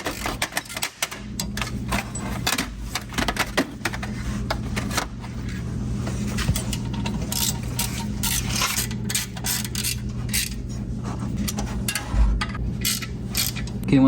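Rapid clicking ratchet tightening the clutch pressure plate bolts on a Porsche 986 Boxster, bursts of close, loud mechanical clicks repeating with short pauses between strokes, no speech.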